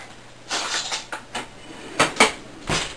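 Pesto being stirred into cooked pasta directly in the cooking pot: several separate clinks and scrapes of a utensil against the pot, spaced irregularly and heard close with nothing else in the background.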